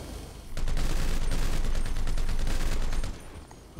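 Rapid automatic gunfire in a GTA 5 deathmatch, a dense continuous burst of close, loud shots lasting a few seconds before cutting off, with quieter gunfire before and after.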